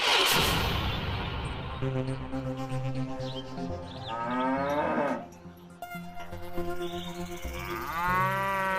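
Oxen lowing on a farm path in the forest, several deep drawn-out moos rising and falling close by, with insects chirring faintly in the background and no voices.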